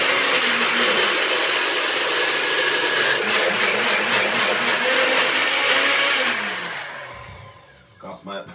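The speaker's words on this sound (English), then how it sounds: "Because my blender is so tiny." A small blender whirs loudly and steadily blending sea moss with water, its motor pitch shifting as it runs, then winds down and stops near the end.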